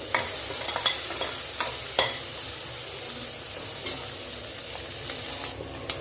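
Small onions (shallots) sauté in a pan for kuzhambu, giving a steady, close crackling sizzle with a few sharper pops and scraping stirs throughout; no one speaks.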